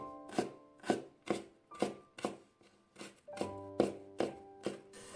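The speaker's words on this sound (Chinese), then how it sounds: "接着准备半根去皮的胡萝卜，先切成薄片，再改刀切成细丝。" A knife chops half a peeled carrot on a cutting board, first into thin slices, in about eleven steady, distinct thunks that ring lightly against the board, close and alone.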